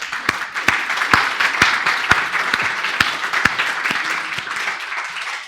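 A church congregation applauds during a service, a dense, steady wash of clapping with sharp individual claps cutting through, continuous and fairly loud without a break.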